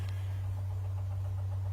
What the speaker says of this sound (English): There's an engine starting up for you.